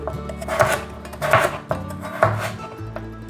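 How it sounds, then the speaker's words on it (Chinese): A knife slices carrots in a home kitchen, giving several separate crisp chopping strikes in an uneven rhythm, close and fairly loud with no talk. "把红萝卜切片"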